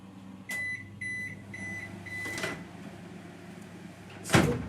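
A kitchen microwave oven heats a homemade dish, giving a low running hum with a few short beeps early on and a door or latch clunk near the end.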